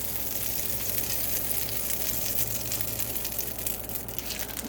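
Beef pinwheels sizzle loudly and continuously in hot butter in a cast iron pan, a steady crackling fry that stays close throughout.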